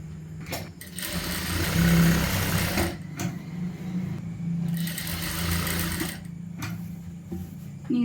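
A sewing machine stitches the lining of a churidar in two steady runs of rapid needle clatter, pausing briefly between them, close and clear.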